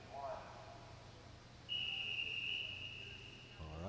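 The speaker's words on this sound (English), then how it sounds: "At the ready whistle." A long, steady referee's whistle blasts for about two seconds as the ready signal at a high school swim meet in an echoing indoor pool, following faint background talk.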